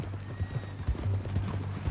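Horse hooves clip-clopping in Red Dead Redemption 2, a quick steady run of close, low hoof thuds that keeps up throughout, with no talk over it.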